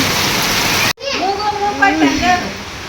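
A dense hiss of heavy rain pours for about a second, then cuts off abruptly, and close voices take over and carry on talking.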